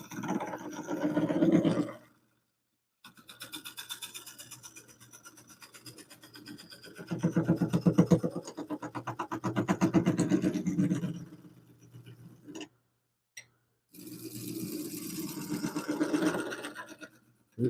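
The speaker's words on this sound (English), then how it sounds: "And I'm just going to use this skew." A skew chisel shears wood on a spinning lathe, giving a rough, raspy scraping hiss in repeated passes of a few seconds each, separated by brief silences, close and fairly quiet.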